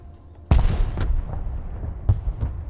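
Mobile artillery fires at maximum range in the war game Broken Arrow: a loud, sharp blast opens, followed by rumbling echoes and a second, lighter report near the end, with no talk over it.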